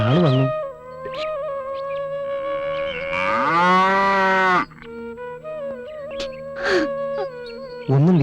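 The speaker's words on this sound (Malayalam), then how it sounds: "ജോസൂട്ടിയില്ലേ, കാളയെ കൊണ്ടുപോകാൻ ആള് വന്നു." Bull mooing repeatedly in a rural farm setting, long, loud, wailing calls close by, one sustained bellow in the middle, with short gaps between them and no other voices.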